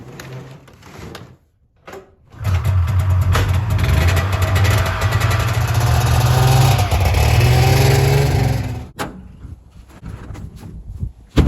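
A snowmobile engine starts up near, revs loudly for several seconds while driving off, then its roar cuts away, leaving brief quiet and a final knock.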